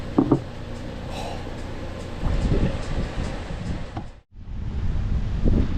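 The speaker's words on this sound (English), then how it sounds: "Well, it's a little bit windy" Wind buffets the microphone at Genoa campground in low, gusty rumbles, rising and falling, with one brief dropout before the gusts return.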